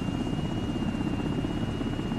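Steady rotor thump and turbine drone of a Chinook helicopter in a military video game, a continuous loud broadband rumble with a constant high whine, no speech.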